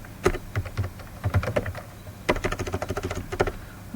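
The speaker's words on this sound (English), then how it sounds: "here I write priority queue." Code is typed on a computer keyboard in quick, irregular runs of crisp key clicks with one short pause in the middle, close and moderately quiet.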